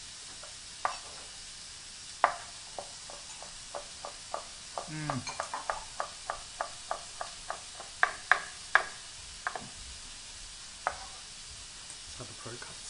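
A chef chops food on a cutting board during a live lunchtime cooking show, a steady series of sharp knife taps, clustering quicker in the middle, over faint kitchen background, with a brief murmur from someone.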